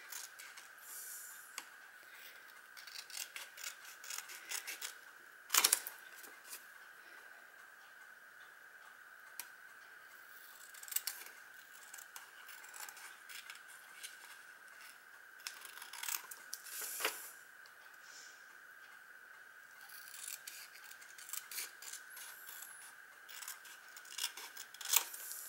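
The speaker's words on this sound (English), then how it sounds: "I'm going to do it with scissors because this paper is so thin on these." Scissors snip steadily around thin paper card to trim off a red border, a long run of faint, close, crisp clicks with a few louder cuts and no talk.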